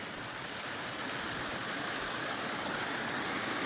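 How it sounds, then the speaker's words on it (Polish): A small waterfall on a mountain stream along the Kjerratstien hiking trail in Norway gives a steady, even rush of falling water, moderately close and unbroken, with no voices. "taki mały wodospadzik."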